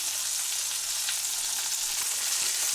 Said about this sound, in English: you'll know when the fish is ready to turn over when it stops sizzling